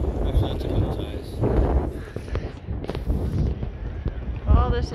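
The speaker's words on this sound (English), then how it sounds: "It's so windy" Strong gusts buffet the microphone by a sailboat-filled harbor in Newport, rumbling loudly and unevenly while people talk.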